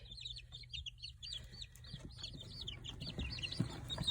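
Lavender Ameraucana chicks peep in a steady run of high, repeated chirps close by, over a low rumbling background hum with no talking.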